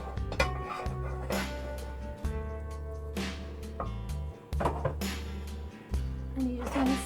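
Thick, hot milk barfi mixture scraped out of a pot into a baking dish, with intermittent metal clanks and scrapes of spoon against cookware, close by, over a steady low hum.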